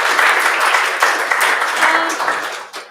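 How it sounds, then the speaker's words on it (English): An audience at a React Native and Flutter developer meetup gives a round of applause for the speakers, a dense burst of clapping with some voices mixed in that fades out after about three seconds. "huge round of applause to both of these speakers."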